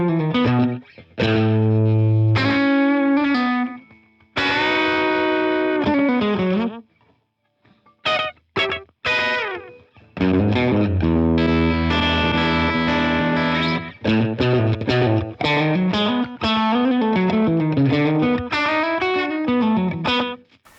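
Electric guitar phrases in a Telecaster-style country twang tone with a short analog mono slapback echo doubling each note, played in bursts separated by brief silences.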